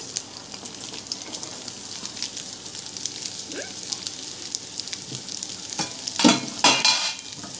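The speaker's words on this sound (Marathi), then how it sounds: "आता हे खोबरं आहे ना आपण भाजून घेऊया." Grated coconut roasting in a little oil in a kadhai, giving a soft, steady sizzle with light stirring and scraping, then a few louder clatters near the end.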